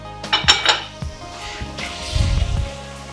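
A spoon scrapes and clinks against a cooking pot while stirring black bean stew, with a few sharp metallic knocks followed by a low rumbling scrape, close up and without talk.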